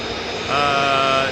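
An Alpha Jet military jet at RAF Lakenheath, flown by a private company, gives a steady broadband roar that swells louder halfway through, with a rising whine layered on top.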